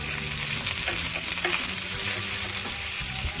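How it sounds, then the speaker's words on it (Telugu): Tempering spices, including curry leaves, sizzle and crackle loudly in hot oil for a chutney, a steady close-up frying hiss with small pops, no voices. "అంతేనండి పచ్చడి తాలింపు వేసేసుకున్నాం"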